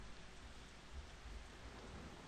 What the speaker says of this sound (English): Notice that it's raining?